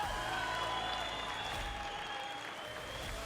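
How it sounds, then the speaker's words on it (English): Steady applause from a large crowd at a women's MMA fight event, loud and continuous throughout with a faint murmur of cheering mixed in. "Let's give these two warriors a big round of applause"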